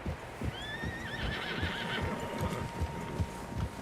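Horses whinny in high, wavering calls while hooves clop steadily underneath, all heard at a moderate distance, in the video game Red Dead Redemption 2.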